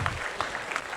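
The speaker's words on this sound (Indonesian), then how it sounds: "Tepuk tangan untuk para ustaz kita pada malam ini." An audience at an evening religious gathering claps for the visiting religious teachers, a brief burst of steady, moderately close applause from a crowd.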